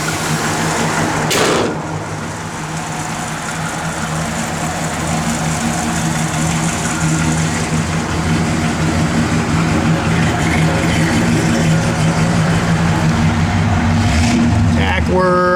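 A 1965 Chevrolet Impala SS convertible with a mild cam, its engine idling loud and close in a steady low rumble throughout, with a brief sharp clunk early on and another near the end.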